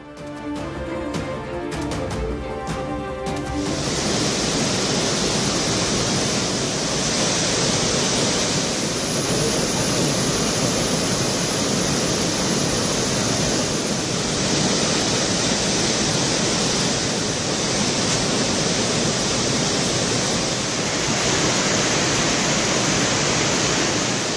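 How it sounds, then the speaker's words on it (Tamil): Water pouring out through five sluice gates of the Malankara dam during heavy rain, a steady dense roar of rushing water that stays loud and even throughout, with a brief clattering noise at the very start. "முன்னெச்சரிக்கை நடவடிக்கையாக அணையின் 5 மதகுகள் வழியாக தண்ணீர் வெளியேற்றம்."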